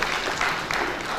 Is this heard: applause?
yes